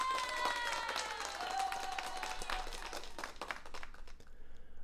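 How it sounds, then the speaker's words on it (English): Audience applause breaking out at a BBQ tavern talk event, dense clapping with some crinkling noise and chatter, steady and loud at first, thinning out toward the end. "let's all get our hands up again for Kevin"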